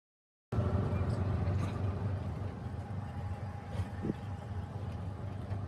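An auto rickshaw ride with a steady engine drone and road rumble close by, a faint high whine running through it, and no talk.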